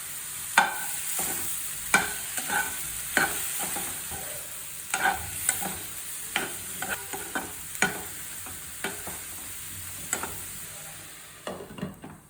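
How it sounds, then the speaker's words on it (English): Cleaned prawns frying in a hot kadai with a little salt, stirred steadily so a spoon scrapes and clacks against the pan in repeated sharp knocks over a constant close sizzle. "So now add our prawns, cleaned prawns."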